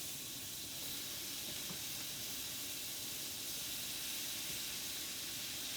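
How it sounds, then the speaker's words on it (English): Shrimp sizzling in nutty browned butter for a crab claw shrimp bordelaise make a steady, close hiss with a bright sputter that doesn't let up. "We're going to go ahead and throw our shrimp in."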